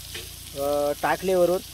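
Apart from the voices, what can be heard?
oil sizzling while frying, coriander added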